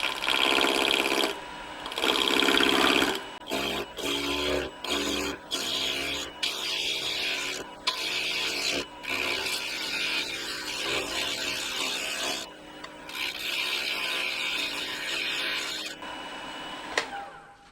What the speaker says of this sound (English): And I'm gonna take a bowl gouge. This is my Robert Sorby 1/2 inch, and I'm gonna start nibbling away at those corners